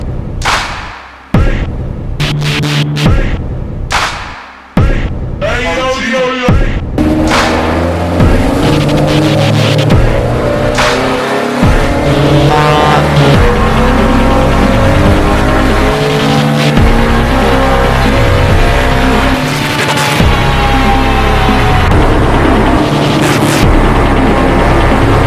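A modified car engine running a remapped calibration on a dyno at a tuning workshop: short sharp revs and pauses, then a long sustained run with rising engine pitch, loud and close, with no voices.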